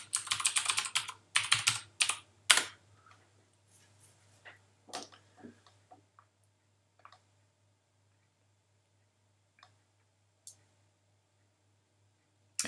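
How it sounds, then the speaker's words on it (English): Keys on a computer keyboard clatter in quick close bursts as a password is typed, then thin out to a few scattered isolated presses over a steady low hum. "I have to type in my secret password."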